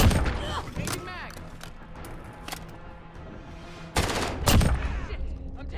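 Gunfire rattles through a Call of Duty: Modern Warfare match, with sharp loud shots and bursts scattered across the clip, including a heavy cluster near the end, while other game sounds run in the background.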